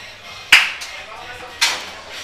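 Two crisp high-five hand slaps about a second apart, each a sharp smack with a quick decay, close and clear against a quiet background.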